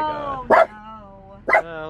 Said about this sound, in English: How am I gonna call with you barking?